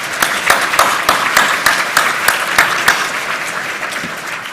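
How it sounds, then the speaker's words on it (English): Loud, close audience applause at a regional workforce development event, crisp individual claps standing out within steady clapping that tapers slightly toward the end. "Let's give them another round of applause."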